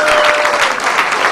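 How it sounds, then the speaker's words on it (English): Loud, dense applause from a comedy club audience at an award event, a continuous roar of many clapping hands filling the whole moment. "Big round of applause for the show you just saw."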